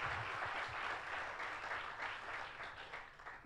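A church congregation applauds during a sermon, a steady wash of many hands clapping at once, fairly distant and moderately quiet, sustained throughout without speech.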